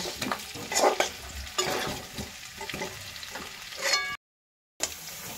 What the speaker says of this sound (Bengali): এখন কিন্তু আলুটা প্রায় ভাজা ভাজা করে নিয়েছি, আরও 10 মিনিটের মতন ভেজে নেব